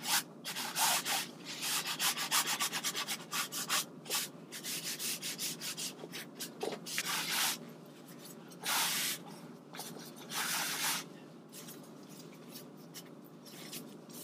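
A blue automotive towel rubs acrylic scrub off a canvas painting in repeated soft, scratchy bursts of wiping, close and fairly quiet, with short pauses between strokes.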